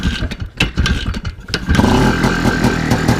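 IZh Planeta-3 motorcycle engine cranks after a long idle period, then catches and settles into a loud, close, uneven idle with sputtering firing, with no speech.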